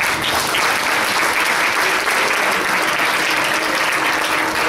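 An audience at an awards ceremony in a Buenos Aires hotel applauds, a loud, dense and steady wash of clapping that holds evenly throughout.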